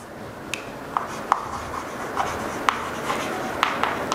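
Writing on a board during a physics lesson: a quiet, steady scratching with sharp taps spaced irregularly as strokes land, close by over low room noise, with no voice.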